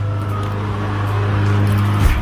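A neighbor's lawn mower cutting grass nearby, its engine droning at a steady low pitch with a slight shift near the end, a brief clatter close by, and no talk over it.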